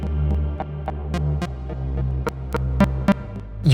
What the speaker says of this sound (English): You hear those clicks, that first transient?